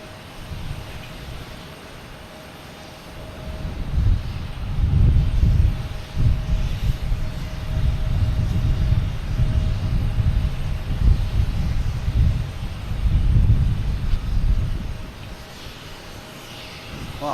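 An American Airlines airliner arriving at Boston Logan Airport, a broad low engine roar that swells in waves over about seventeen seconds, mid-distance and steady, with wind buffeting and no talk.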